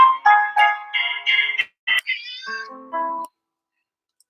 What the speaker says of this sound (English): Anybody else have cats talking to them?